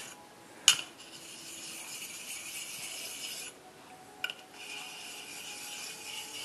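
A Japanese straight razor is drawn steadily across an artificial whetstone, giving a continuous gritty scraping stroke that pauses and resumes, with a clink as the blade is set down and lifted.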